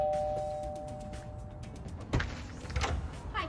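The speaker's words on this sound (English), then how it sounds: "Suddenly, someone rings the doorbell." A doorbell rings once with a clear tone, followed by clattering and movement nearby.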